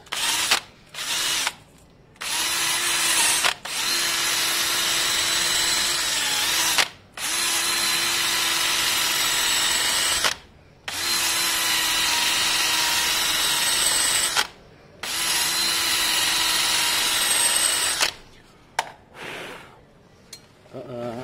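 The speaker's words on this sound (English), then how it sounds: "You can actually see the metal really polishing up." Power tool polishing metal on a Yamaha Fazer 600 motorcycle part, a loud whirring drone running in several long bursts separated by brief pauses, with a steady tone during each run.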